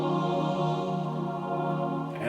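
A sustained, blended female vocal chord pad played back in Ableton Live for an R&B beat, holding steady and full for the whole stretch with no talking.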